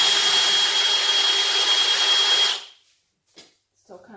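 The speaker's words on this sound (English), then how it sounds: "back to the drilling" A power drill bores into hard oak wood for a table top, a loud steady whine that runs continuously, then cuts off abruptly, leaving brief faint clicks and a quiet voice afterward.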